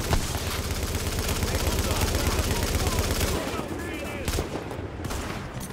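Rapid bursts of machine gun fire in Tom Clancy's The Division rattle continuously, then thin out into scattered shots with faint voices underneath.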